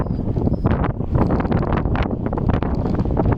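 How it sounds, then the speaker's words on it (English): Strong wind buffets the microphone on a windy autumn day, a loud, continuous rumbling roar with gusty surges, close and uninterrupted, with no talking. "The wind is terrible today."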